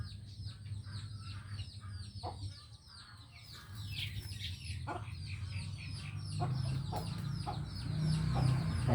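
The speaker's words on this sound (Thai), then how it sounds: "พี่น้องเบิ้งไก่งามเอาซ้ำนี่ละ" Chickens cluck repeatedly in a farmyard, short bright calls scattered across the whole stretch, over a steady low hum that swells toward the end.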